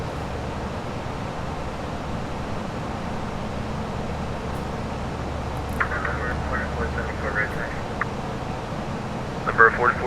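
Airbus A319 airliner taxiing in the X-Plane 11 flight simulator, a steady low engine rumble and hiss throughout, with a voice talking over it.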